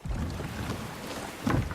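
A boat sets off across water in the God of War video game, a steady low rumble of hull and wind-swept water washing throughout, with a brief louder surge near the end.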